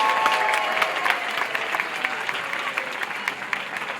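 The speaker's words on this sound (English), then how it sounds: "Now we're going to get Ronnie back onto the station for a massive round of applause." An audience applauds a seal after its turn at a zoo training show, steady dense clapping filling the space from start to finish without any voices standing out.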